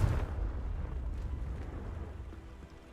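A Confringo spell explosion in Hogwarts Legacy: a loud, deep rumbling blast at the start that rolls on and slowly fades, with no voices.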